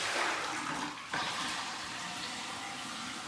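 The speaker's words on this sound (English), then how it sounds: "I'm going to dump the water." Soaking water used for cleaning brushes pours out of a bucket in a steady, close rushing splash that runs for several seconds with a brief dip in the middle.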